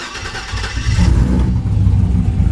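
A 2007 Trailblazer SS fitted with a supercharged LSA engine runs steadily up close, a deep, loud rumble with a rougher, busier stretch at the start before settling into a strong idle.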